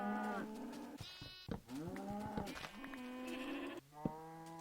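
Cows in the video game Minecraft moo repeatedly, several overlapping low drawn-out calls following one another closely and loudly, with no talking.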